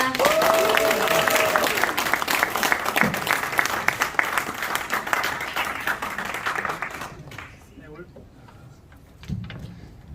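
Guests at a Christian fundraising evening applaud to welcome a tenor, a loud, dense crowd clapping that holds for several seconds and then fades out, with brief speech afterward.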